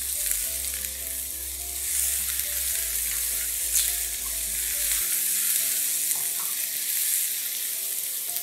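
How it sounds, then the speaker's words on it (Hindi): Tomato and spice masala frying in a pan over a medium flame, giving a steady, close sizzle and crackle that runs without break for the whole stretch, with no voices over it. "फ्लेम मीडियम रखें आप, और टमाटर, मसाला इसका रेडी कर लेंगे हम।"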